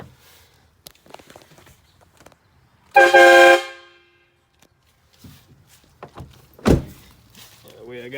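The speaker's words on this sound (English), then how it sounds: "You guys didn't think I was going to leave you hanging without tooting the horn, did you?" The horn of an LB7 truck, fed by an air compressor, gives one loud, close blast lasting about half a second, with thuds and faint handling noises before and after.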